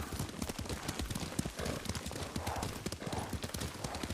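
Horse hooves clip-clop steadily at a riding pace in Ghost of Tsushima, a close, continuous rhythm of hoofbeats with occasional snorts and voices talking over it.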